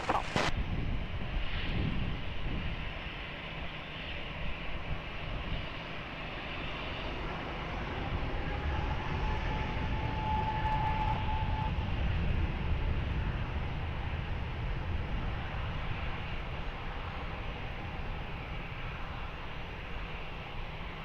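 An airliner takes off from runway 20 at Lisbon Airport, a deep, rumbling jet roar heard from a distance that holds for about twenty seconds, with gusty wind buffeting the microphone.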